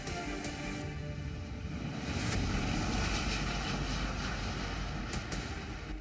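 A steady aircraft engine roar from a US reconnaissance plane flying near Taiwan, a broad continuous drone holding at an even level throughout.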